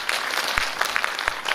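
Brief, dense applause from a large audience at a national Buddhist vihara convention, a steady crowd of hands clapping loudly for a moment.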